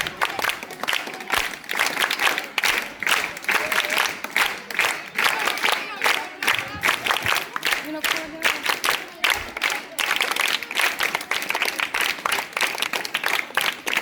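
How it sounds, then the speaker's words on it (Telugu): A school event crowd gives loud, sustained applause, with rapid rhythmic clapping punctuated by bursts of cheering and shouting, while voices are heard mixed into the din. "చప్పట్లు కొట్టాలని చెప్పిన మీరందరికీ."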